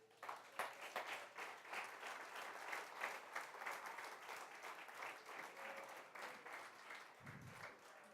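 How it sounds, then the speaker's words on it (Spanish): Sustained applause from a church congregation during a sermon, steady dense clapping filling the room for several seconds at moderate distance, with no voices over it. "Da un aplauso al Rey."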